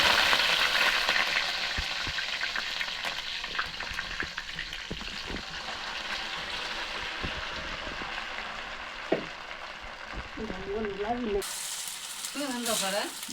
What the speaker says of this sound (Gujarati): આ રીતે જો વઘારવાનું કામગીરી ચાલુ છે